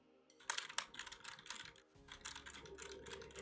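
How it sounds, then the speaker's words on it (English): Computer keyboard typing picked up by an Elgato Wave 3 microphone, a quick run of crisp clicking keystrokes, fairly close and clear, with a short pause partway through and no talking. "the microphone is definitely picking up the keyboard clicks"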